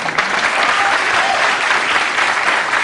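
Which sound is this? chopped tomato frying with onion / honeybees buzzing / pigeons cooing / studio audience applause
studio audience applause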